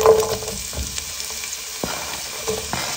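Onions and guanciale fry in olive oil in a pan, giving a soft, steady sizzle with faint crackles and occasional stirring scrapes, close and alone.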